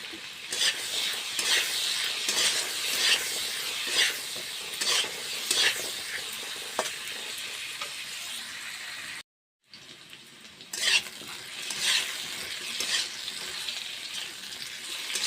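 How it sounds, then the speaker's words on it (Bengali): Potato pieces frying in oil with salt and turmeric, a continuous close sizzle and crackle with stirring scrapes, broken by a brief silent gap partway through before the frying resumes. "অল্প নুন আর অল্প হলুদ দিয়ে আলুগুলো ভেজে নিচ্ছি।"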